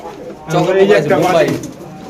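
Pigeons offered for sale at a market coo loudly and close by in one sustained, throaty burst.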